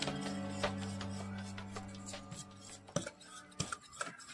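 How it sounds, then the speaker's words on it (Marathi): Oil, yogurt and sugar being mixed for a wheat-flour chocolate brownie batter, with a utensil clinking and scraping against a bowl in irregular strokes and a steady hum underneath, fairly quiet and close. "तेल घेऊया, दही घेऊया, साखर छान मिक्स करून घ्यायचं"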